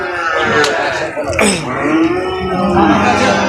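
A large Mundi breed bull at a busy cattle market gives a drawn-out low bellow midway, heard close among people talking and general market bustle.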